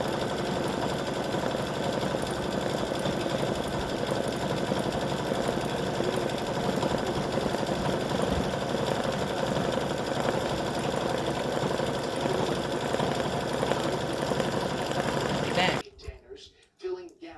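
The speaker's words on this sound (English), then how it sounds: "it's finished the stitching around the edge here" A sewing machine runs steadily, stitching around the edge of an appliquéd pumpkin piece, with a continuous mechanical hum that stops abruptly near the end, leaving near-silence.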